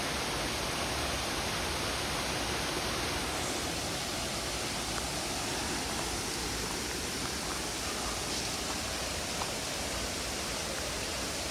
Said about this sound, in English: Yet another waterfall.